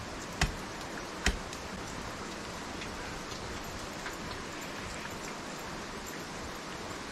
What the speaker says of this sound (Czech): to je strašný ten déšť